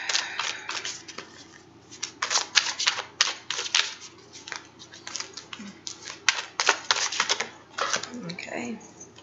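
Rapid bursts of tarot cards riffling and slapping together as they are shuffled, repeated in quick clusters, with a voice speaking briefly underneath.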